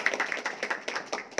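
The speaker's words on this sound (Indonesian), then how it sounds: "Tepuk tangan untuk beliau." A small group claps at a distributor community meetup, a short burst of scattered handclaps close by.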